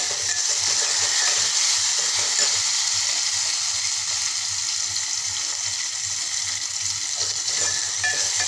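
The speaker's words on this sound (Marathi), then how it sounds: "तर मी थोडं लसूण जिरं घालते। त्याला छान मस्त परतून घेते व एक बारीक चिरलेला टोमॅटो घालते।" Garlic, cumin and finely chopped tomato sautéing in a pan for dal tadka, a loud, continuous close sizzle with a watery hiss and no pauses.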